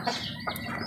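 A hen clucks softly twice in quick succession, close by and fairly quiet.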